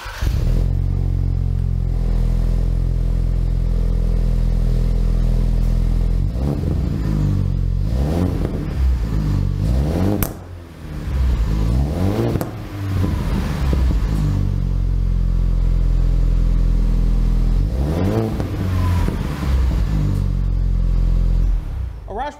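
Ford Bronco with a 2.3-liter turbo engine and a Roush Performance axle-back exhaust, revving loudly and close up in several surging bursts over a steady deep rumble, with brief dips between pulls.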